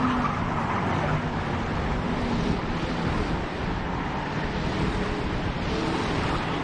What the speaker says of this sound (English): These cars are ripping.